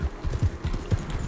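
Horse hooves clip-clopping at a steady riding gait in the video game Red Dead Redemption 2, a run of distinct, close thuds in a regular rhythm, heard alone without voices.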